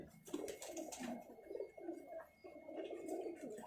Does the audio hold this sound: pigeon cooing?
yes